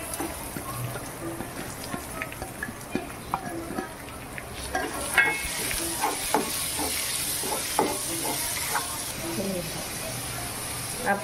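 Chopped onion goes into a pan with roasted garlic and green chilli for a dry methi and moong dal sabji. A steady hiss of frying runs under scattered stirring clicks, with a louder burst of sizzle about midway. No one speaks.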